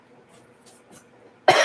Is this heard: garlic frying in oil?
no